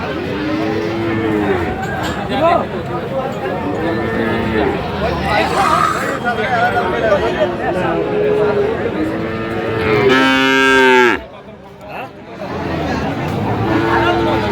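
Friesian bull calves moo over and over at Aftabganj cattle market in Dinajpur, the drawn-out calls repeating every few seconds over a constant babble of crowd chatter and bargaining voices.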